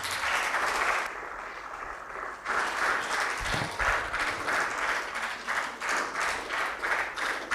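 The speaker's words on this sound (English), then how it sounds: "as we give a big round of applause" Steady applause fills a ceremony hall during a felicitation at a university collaboration and signing event, a dense crowd clapping with a brief dip before swelling back to a rhythmic, pulsing ovation.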